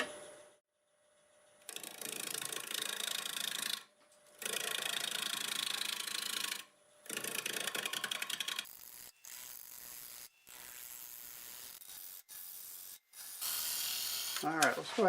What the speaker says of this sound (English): So I'll get my face shield and a 5/8 bowl gouge, and we'll make us a simple little bowl.